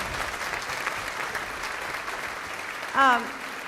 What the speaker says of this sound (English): I'd like to give Ms. Edelman another big round of applause